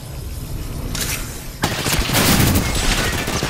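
Gunfire in the video game Apex Legends: sustained loud bursts of automatic fire with a sharp surge of heavier shots midway, continuing densely to the end, with no talk over it.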